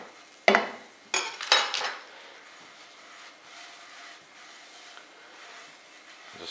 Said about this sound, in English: Just swirl it around there, absorbs the butter.